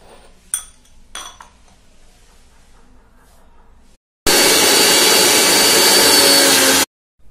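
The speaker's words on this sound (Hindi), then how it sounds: "अब इसे हम मिक्सी में पीस लेंगे।" After a few clinks of a spoon and jar, an electric mixer grinder grinding spice masala for chole starts abruptly, runs loud and steady for about two and a half seconds, then cuts off sharply.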